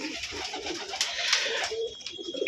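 Pigeons kept for sale coo close by in soft, repeated throaty phrases, several birds overlapping in an uneven rhythm, with no talking over them.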